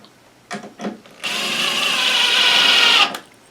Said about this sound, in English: And we'll just screw it in.